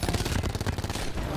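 Video game gunfire crackles in a rapid, dense burst of repeated shots, loud and continuous over a short stretch.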